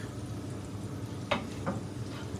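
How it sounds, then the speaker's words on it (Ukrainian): Mushrooms with garlic stewing in a pan give a faint, steady sizzle and bubbling, with a few soft stirring clicks close by and no talk. "Багато-багато грибочків тушкуємо."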